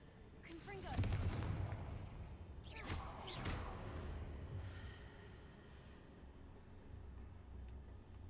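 The Confringo blasting spell goes off in the Hogwarts Legacy video game: two heavy, booming explosive bursts a couple of seconds apart, each trailing into a rumbling decay.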